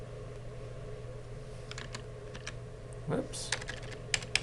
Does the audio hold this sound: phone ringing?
no